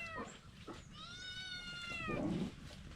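A cat in a rural Philippine province gives a couple of short meows followed by a longer drawn-out wavering meow, close and fairly quiet against faint background noise.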